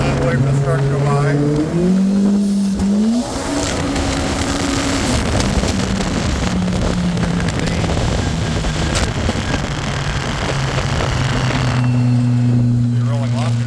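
Turbocharged car fitted with a LaRue stand-alone ECU and turbo kit accelerating hard from a rolling launch, engine roaring loud and close with rising revs, a brief shift dip, then sustained pull under strong wind noise.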